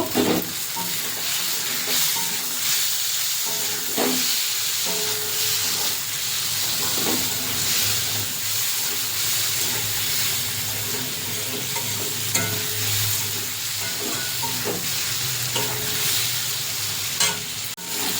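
Crisp fried neem leaves get stirred together with eggplant in a sizzling pan, the steady hiss of frying punctuated by repeated scraping and clinking of the spatula.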